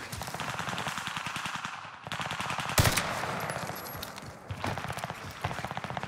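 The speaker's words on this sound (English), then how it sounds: "Teammate just started shooting me, bro." Rapid automatic gunfire in Call of Duty Warzone on Rebirth Island, a CW MP5 among the weapons, sustained bursts of shots with a sharp loud crack partway through, no talking.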